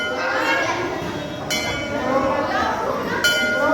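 A temple bell at a Shiv temple in Haridwar rings out twice with bright metallic strikes that ring on, over a bustling background of voices and movement.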